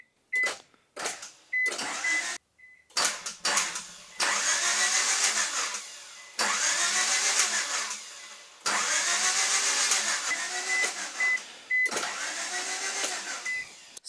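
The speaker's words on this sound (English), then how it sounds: "We can crank the motor over with the key." A car starter cranks the engine over, key-started after a fuel injection swap, in several long whirring, grinding bursts separated by pauses and punctuated by faint beeps.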